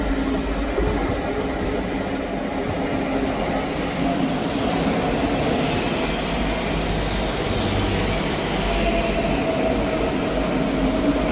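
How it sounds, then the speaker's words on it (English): A ScotRail class 334 electric multiple unit, 334009 leading and 334007 at the rear, runs past Edinburgh Haymarket station on the Helensburgh Central to Edinburgh Waverley service, giving a steady moderate rumble of wheels and motors with a faint high whine. "9:49 Scotrail service from Helensburgh Central to Edinburgh Waverley. 334009 is on the front."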